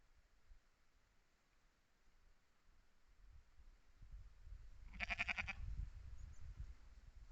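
Sheep near Loch Buie on the Isle of Mull bleat once, briefly and fairly faint, over a quiet wind-blown outdoor background.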